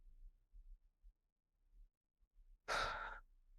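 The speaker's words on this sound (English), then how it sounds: "Take another breath" A single slow, deep breath drawn during a calm guided reset, rising as a soft, breathy rush near the end after quieter, faint breathing sounds.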